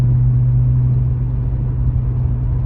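From inside a moving car with new coil packs and a rebuilt clutch, a loud, steady low engine drone and road rumble hold without pause, with no talking.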